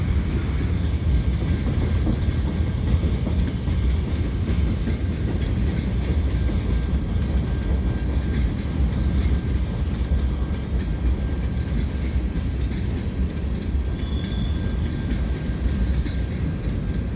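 CN freight train with a string of orange maintenance-of-way ballast cars rolling past at the Lachine Canal bridge, a steady, loud continuous rumble and rail clatter sustained throughout, no voices.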